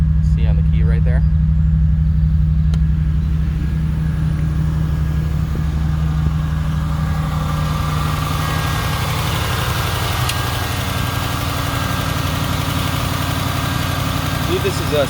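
1956 Chevrolet Suburban fitted with a fuel-injected 5.7-litre LS1 V8, its engine idling with a steady low rumble and faint vibration as a person talks nearby.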